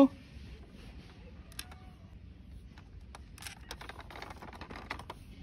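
Small screws being driven by hand into a plastic toy vehicle model, giving quiet clicks and ticks of the screwdriver over a faint background hum, with irregular bursts of light mechanical tapping and creaking.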